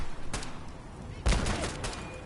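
Gunfire in the video game Fallout 4, played in survival mode with mods: a few sharp shots ring out, one heavy blast standing out near the middle, with brief bursts before and after.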